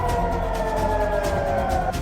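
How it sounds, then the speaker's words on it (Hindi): A loud wailing air-raid siren in Bahrain holds a steady, wavering tone throughout, close and continuous with no voices. "बहरीन में सायरन बज रहे हैं।"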